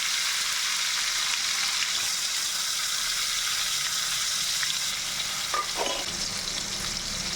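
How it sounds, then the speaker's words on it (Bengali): Tomatoes dropped into hot spiced oil with bay leaf and garam masala, for a spicy dry mutton dish, sizzle and fry loudly in a continuous hiss, with a few brief clinks of a utensil near the end. "এবার আমি এখানে তেলের টমেটো দিয়ে দিলাম"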